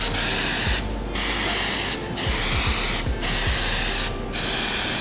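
Short aerosol bursts of adhesion promoter sprayed onto a vinyl car door card, four hissing blasts of about half a second each with brief gaps between them, close and loud with no talking.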